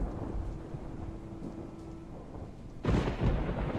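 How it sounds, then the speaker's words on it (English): Thunderstorm with rain in Project Zomboid: a steady rain hiss runs under a low rumble, then a loud thunder crack bursts in near the end. "The storm's is raging outside."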